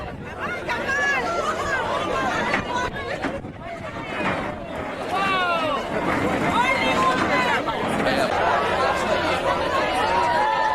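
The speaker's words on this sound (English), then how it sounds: "This is a happy crowd." Cheerful crowd chatter aboard a Chicago sightseeing boat cruise on a sunny, cloudless day, many voices overlapping in a steady, lively babble with occasional chuckles, close and continuous throughout.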